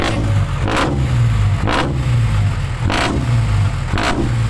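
A motorcycle or small engine fitted with a cheap, loud aftermarket exhaust, blipped repeatedly: four sharp throttle revs rise and fall over a steady, rumbling idle, close and loud with no talking.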